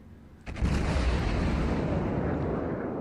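A heavy naval gun salvo in World of Warships booms out as a single loud, deep blast that rolls into a sustained rumbling decay, with no voices over it.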